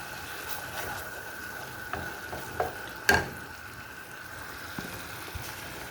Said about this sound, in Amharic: እዚህ ጋር ይሄን እየተቆላላ ነው።